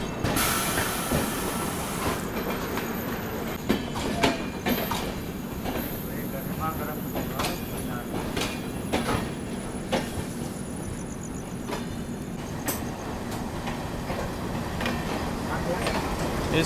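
A train being shunted at LTT railway station in Mumbai, the LTT–Patliputra Superfast rake, gives a continuous rumble with rail clatter and occasional metallic squeals and clanks, close and steady throughout, with voices heard over it.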